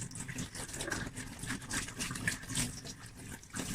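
A makeup brush is rinsed under a warm running tap, giving a soft, continuous splashing trickle of water with faint swishing throughout.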